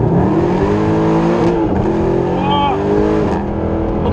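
A Mercedes-AMG SLS engine revs loud and close, its tone rising, dipping briefly at an upshift, then climbing again, with a voice talking over it.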